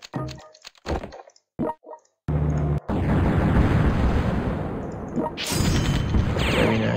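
Artillery fire in a World War II strategy game set around Leningrad, heard as a sustained, loud roar of rumbling explosions that starts abruptly after scattered sharp clicks and persists with a brighter crackling burst near the end.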